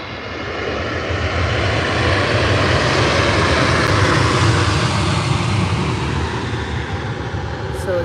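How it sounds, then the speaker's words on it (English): An EasyJet Airbus A320 arriving from Paris Orly at Faro airport, a loud, sustained jet engine roar that swells and holds steady before easing slightly as it passes. "So that was the EasyJet A320 from Paris Orly"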